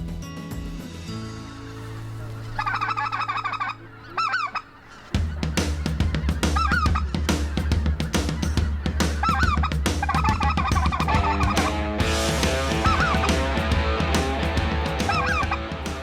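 Speckle-bellied geese honk in a loud, dense chorus, many overlapping calls swelling after a quieter opening with a few scattered honks.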